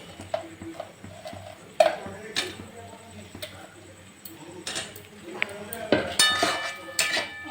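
Vegetable Manchurian balls dropping into gravy in a pan, heard as scattered clinks and knocks of a utensil against cookware that grow busier and louder toward the end, over a low background hum.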